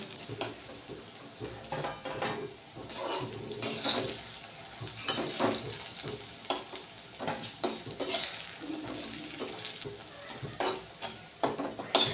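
Fritters lifted from hot frying oil, sizzling steadily while a metal utensil scrapes and clinks against the pan in frequent short bursts, close and fairly loud throughout.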